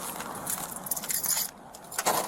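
A bunch of keys jangles close by during a police stop at a truck, a dense metallic rattling that runs in quick shakes with a short pause midway.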